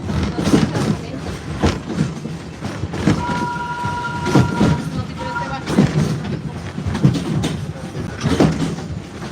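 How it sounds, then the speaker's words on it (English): The park train at Disney's Animal Kingdom rolls toward Harambe station, a steady rumble with rhythmic clickety-clack of wheels, a brief horn tone midway, and a voice talking over it. "We are approaching the Harambe train station."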